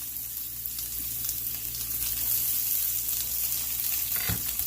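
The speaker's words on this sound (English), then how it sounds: "smoking hot oil in a cast iron pan. Careful now. Minced up onions." Minced onions frying in smoking hot oil in a cast iron pan, a steady close hiss of sizzling with faint crackles and one short knock near the end, no talking.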